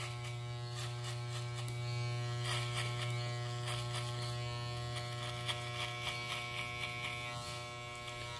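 An electric hair clipper buzzes steadily and close while cutting a fade haircut, a constant droning hum with faint crisp snips of hair as the blades pass; no talk.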